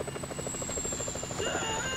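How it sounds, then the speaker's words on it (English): A chopper in Grand Theft Auto V thuds with rapid, steady rotor beats and a high engine whine, heard at moderate distance for a couple of seconds. "Bring down the chopper, Trev."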